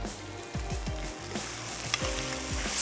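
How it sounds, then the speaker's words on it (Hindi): Rice boiling in salted water on a stove, a steady sizzling, bubbling hiss with soft clinks and stirring scrapes throughout, fairly quiet and close, no voices. "यहाँ जो हमारे राइस बॉईल हो रहे हैं इसमें भी हमने ऐड कर देना है सॉल्ट।"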